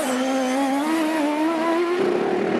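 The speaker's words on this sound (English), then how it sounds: "Oh, rev limiter again, just like Tracy." A ChampCar race car at full throttle during qualifying at Denver in 2006, its engine a loud, steady high-pitched whine that rises gradually, then shifts abruptly near the end as it bangs against the rev limiter.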